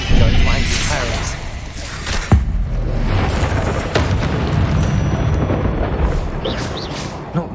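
Explosive Confringo spell blasts in Hogwarts Legacy, a burst of booming impacts layered over dense game action and music, with a sharp hit near the middle and continuous rumble throughout.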